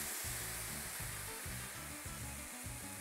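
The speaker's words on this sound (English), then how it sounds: "Once you get it to this point, carefully add in the sauce." Sauce poured over browned rice and onion for Mexican rice hisses loudly and continuously in a hot pan, a dense close sizzle with no voices over it.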